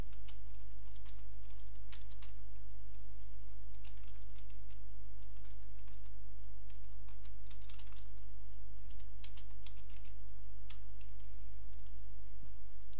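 Steady, rapid typing on a computer keyboard, close and clear, with uneven bursts of key clicks and no voices.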